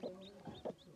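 Newly hatched chicks, from blue eggs on a farm, peep faintly from beneath a brooding hen, giving a few short, high chirps in quick succession.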